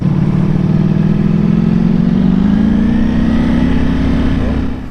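A Ducati Panigale V4 SP2 sports motorcycle engine drones loudly and steadily nearby, its pitch rising slightly as it accelerates before fading away at the end.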